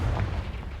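A Confringo explosive spell detonates in the video game Hogwarts Legacy, a single loud, low booming blast that rumbles on for under a second without any talk.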